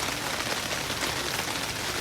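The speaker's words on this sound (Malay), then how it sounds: "Guys, dah hujan." Heavy rain at a riverside campsite in Batang Kali pours down in a dense, continuous hiss, falling heavily on a canvas surface close by.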